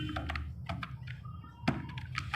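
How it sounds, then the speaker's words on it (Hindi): Someone types on a wireless computer keyboard in a quiet room, a few scattered, crisp keystrokes and taps coming in short irregular bursts at close range. "Wireless keyboard."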